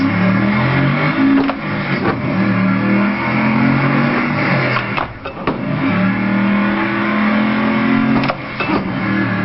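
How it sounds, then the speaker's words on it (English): A manual stick-shift car pulls away in first gear as the clutch is eased out and gas applied, the engine note loud and close, rising and wavering steadily over several seconds. "And then we slowly let go of the clutch and slowly apply gas."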